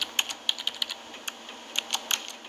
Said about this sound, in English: you really are just typing away, aren't you?